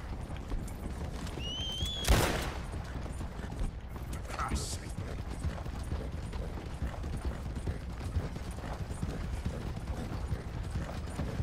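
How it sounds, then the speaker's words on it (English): Steady clip-clop of a horse's hooves galloping fast in Red Dead Redemption 2, continuous beneath a busy game soundscape, with a brief sharp burst and whistle-like tones early on. "At least I got Thunder. The fastest horse ever"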